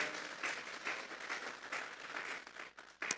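A church congregation claps together as an offering to God during a sermon, a steady mid-level wash of many hands with periodic swells, thinning briefly near the end before a final burst.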